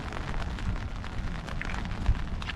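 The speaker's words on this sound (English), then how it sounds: "It's a rainy London day, your chauffeur pulls up." Rain pattering steadily on a 2021 Mercedes-Benz S580 on a wet London day, a dense hiss of drops on the car body, close and continuous with a couple of slightly heavier taps.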